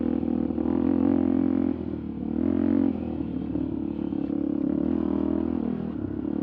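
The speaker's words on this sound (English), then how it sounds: "He makes a good little wheelie." A Yamaha motorcycle revs while doing a wheelie on a Moab trail, a steady droning engine note with a brief dip and swell, heard fairly close and loud.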